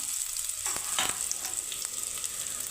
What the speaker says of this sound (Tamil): இப்போ வெங்காயம் சேர்த்து கொஞ்சம் வதங்கிடுச்சு வெங்காயம். இப்போ நம்ம தக்காளி சேர்த்துக்கலாம்.